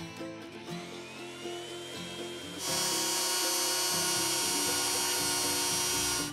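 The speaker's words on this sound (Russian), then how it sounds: "Полировать буду пастой ГОИ." A rotary tool whines steadily while polishing a metal spoon fishing lure with GOI paste, its pitch shifting and then jumping louder and harsher partway through as contact increases.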